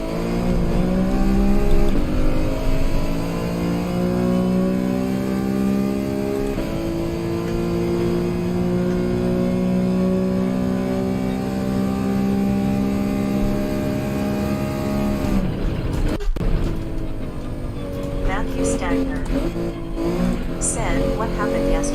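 Race car engine effects from the Gran Turismo 7 video game drone loudly and steadily at high revs, shifting briefly near the end, while a person talks over them.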